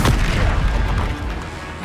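The Expelliarmus spell is cast in Hogwarts Legacy, a dense, booming magical blast that fills the short moment with a loud rumbling impact fading slightly toward the end.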